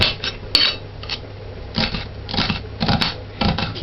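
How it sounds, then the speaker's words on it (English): An onion diced with a knife on a chopping board, heard as bursts of quick, crisp, close chops separated by short gaps, with no talking. "Dice the onion."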